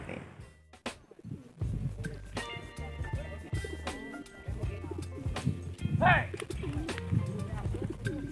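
Racing pigeons coo and flutter nearby during race training, amid a busy outdoor scene, with people talking intermittently and scattered bird calls throughout.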